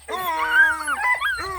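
A four-month-old female bluetick hound puppy whimpers and whines in a long wavering cry, close and fairly loud, breaking into a short second whine at the end.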